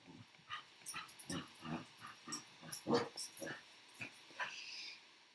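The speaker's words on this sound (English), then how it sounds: "my dog is getting a little restless in the background" A restless dog whimpers and whines in the background of a quiet room, a series of soft, breathy yips and whimpers spread across the span at moderate distance.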